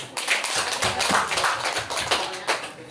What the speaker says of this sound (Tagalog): Palakpak ng tanan.